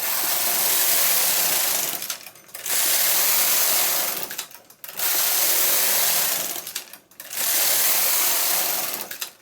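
Knitting machine carriage sliding back and forth across the needle bed, producing four loud, close whooshing, clattering passes, each a couple of seconds long with brief pauses between them.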